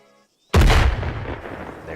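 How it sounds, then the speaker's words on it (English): An artillery round impacts in Arma 3 with a single loud, sudden boom after half a second of near silence, then a long rumbling tail that fades slowly. "Wait for that round to impact real fast."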